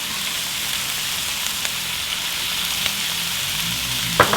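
Chile strips sizzle in a pan while being stirred, a steady crackling hiss with faint scraping touches and a couple of louder knocks toward the end, no voices.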